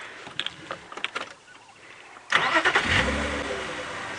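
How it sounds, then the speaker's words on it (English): Safari vehicle engine starts after a few faint clicks and knocks, then settles into a close, steady idle with a low rumble. "Let the engine run a little bit."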